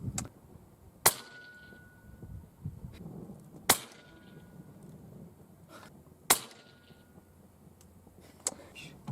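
A Hatsan Hercules air rifle fires three sharp, loud shots spaced a few seconds apart, each a crisp crack with a brief ring, plus a fainter click or two between them in a quiet outdoor setting.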